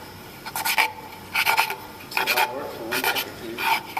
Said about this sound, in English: To get the fuzz off the edges, you have to sand it like that and turn it.